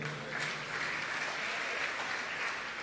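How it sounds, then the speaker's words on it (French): Church congregation applauding steadily for nearly three seconds, a dense, even wash of clapping with no clear pauses at moderate loudness. "Acclamez pour eux."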